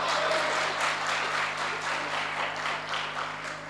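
Audience applause at a Hindi comedy and poetry show, a dense, sustained clapping that holds steady for a few seconds with no talk over it.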